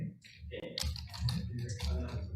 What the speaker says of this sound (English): Porter, we can hear you typing there if you could mute that.